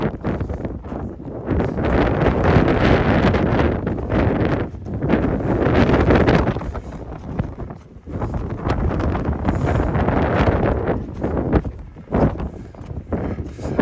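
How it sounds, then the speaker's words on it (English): Strong wind on a winter snow hike on the Tilly Jane Trail roars steadily against the microphone, a loud continuous buffeting rush with brief lulls and gusts throughout, no voices. "I was not expecting this heavy of wind"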